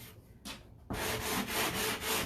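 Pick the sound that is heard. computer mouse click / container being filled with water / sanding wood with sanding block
sanding wood with sanding block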